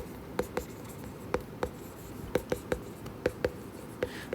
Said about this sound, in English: Let me write the procedure for you.